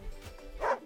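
A dog barks once in the fantasy strategy video game Wargroove, a short, fairly loud woof rising near the end of a brief moment.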